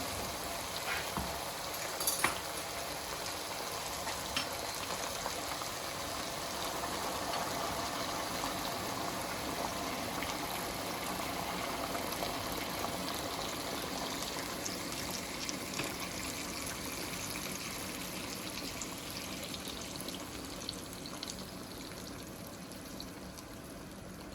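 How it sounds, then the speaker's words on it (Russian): Boiled water pours steadily into a pot of cabbage rolls with a continuous splashing trickle, close by and fairly even throughout, no voices. "Теперь наливаем кипяченую воду."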